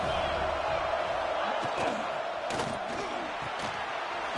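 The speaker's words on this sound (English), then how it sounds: "the crowd coming to life here, trying to help this defense down in the red zone" A football stadium crowd during a college game against Texas roars steadily as the defense holds in the red zone, a broad noisy wash with a few sharp claps and shouts, and no clear commentary over it.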